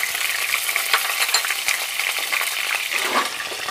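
Green chillies frying in a spoonful of hot oil, a steady close crackling sizzle with sharp spitting pops throughout and a brief stirring scrape near the end.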